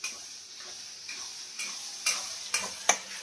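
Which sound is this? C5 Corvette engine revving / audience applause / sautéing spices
sautéing spices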